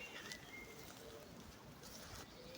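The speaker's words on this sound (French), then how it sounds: "Écoutez la louange de ces oiseaux du ciel qui louent Dieu sans cesse." Birds call outdoors, with a soft cooing like a pigeon or dove and faint chirps, quiet and distant against a steady background hiss.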